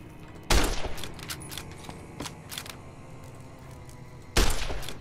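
In Fallout New Vegas, two sharp, loud gunshots ring out several seconds apart, each followed by a clattering, ringing tail, with scattered clicks and small impacts in between.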